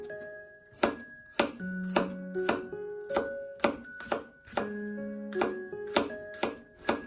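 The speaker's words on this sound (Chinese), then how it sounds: "切成蒜粒" A knife chops garlic into small pieces on a cutting board for a potato dish, with about a dozen crisp, evenly spaced strikes close up over soft background music.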